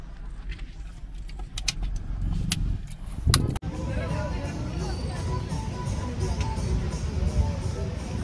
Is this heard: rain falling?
no